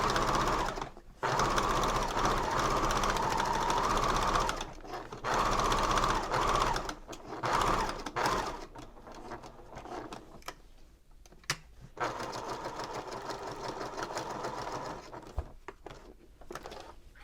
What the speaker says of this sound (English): And then I sew my way back.